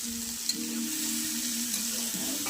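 Onions with whole spices, cumin, dried chilli, cinnamon, cardamom and cloves, frying in oil for a mutton fat dish: an even hissing sizzle over a low steady hum, with a single small clack early on.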